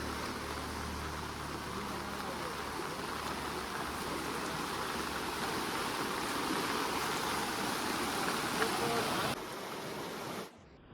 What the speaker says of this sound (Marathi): नदीला आपल्या पाणी चालू झालं